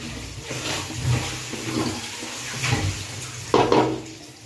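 Tap water runs steadily while raw chicken is rinsed in a kitchen sink, with a continuous splashing hiss, a few louder gushes and clinks near the end, and no voices.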